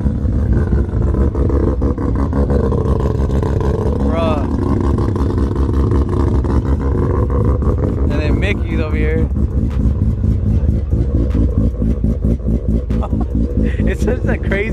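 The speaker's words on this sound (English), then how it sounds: "Craziest sounding cars ever." Loud stance cars rumbling and revving at a rooftop car meet, a deep continuous engine roar with rough, crackling exhaust bursts close by, while people talk over the noise.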